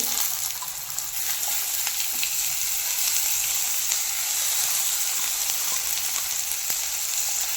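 Masoor lentils being stirred into fried onion in a hot pan over a medium flame, a bright continuous sizzle with soft scraping and mixing sounds underneath, close and steady throughout.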